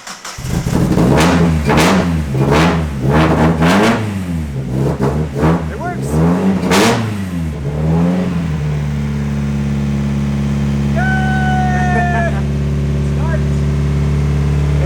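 A loud race car engine, an Exocet fitted with MegaSquirt fuel injection, cranks and fires, revving in several sharp bursts before settling into a steady, rumbling idle.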